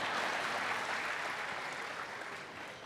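An audience at a humour club anniversary celebration claps together in a sustained wash of applause that stays even and then fades gently toward the end.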